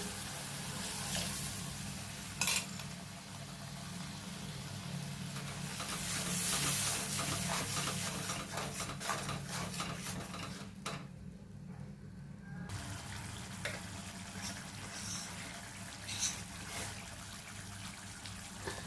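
A small splash of water poured into a pan of katla fish curry gives a steady trickling hiss with faint sizzle underneath, close and fairly quiet, lasting most of the time with a brief pause.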